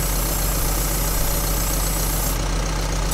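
Sonalika 60 DI tractor idling in Farming Simulator 22 while hitched to a big sugarcane trolley: a loud, unbroken mid-to-low engine drone that holds steady throughout, with no talk.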